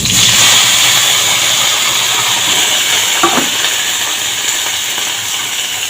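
Chopped bottle gourd fries in oil with a loud, steady hiss, and a single stirring scrape cuts through the sizzle partway along.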